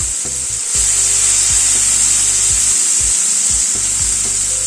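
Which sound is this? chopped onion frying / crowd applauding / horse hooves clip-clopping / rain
chopped onion frying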